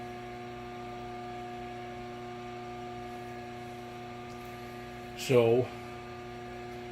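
A rotary phase converter running in a workshop, giving a steady mains-frequency hum with strong harmonics throughout, and a brief spoken word near the end.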